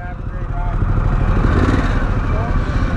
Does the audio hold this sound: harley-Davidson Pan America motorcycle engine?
yes